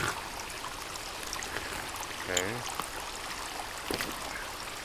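Flowing stream water in the Sons of the Forest game, a steady soft trickle running continuously beneath a brief spoken word and occasional faint clicks.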